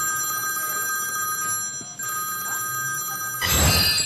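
A telephone rings steadily in a room, a sustained electronic bell tone running through the moment at moderate loudness, before a louder burst of noise near the end.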